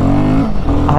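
Royal Enfield Himalayan 452 motorcycle engine revving in first gear, a steady loud, close drone with a rising throttle surge near the end.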